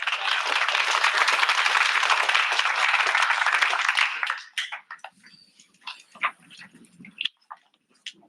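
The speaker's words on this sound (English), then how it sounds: "One more round of applause." Dense audience applause at a university student invention showcase rings out loud and steady for about four seconds, then breaks off into a few scattered claps and faint movement noise.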